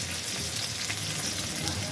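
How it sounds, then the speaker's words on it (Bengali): Eggplant pieces fry in oil previously used for frying potatoes, giving a dense, steady close sizzle and hiss with fine crackles throughout. "আলু ভাজার তেলে আমি এবার বেগুনগুলোকেও ভেজে নেব"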